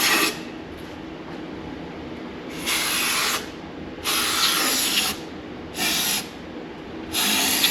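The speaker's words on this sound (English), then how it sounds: "I'm gonna clean the whole seal with a brake cleaner" Aerosol brake cleaner sprayed onto an engine oil seal in a car, several hissing bursts of uneven length over a steady low background hum, close by.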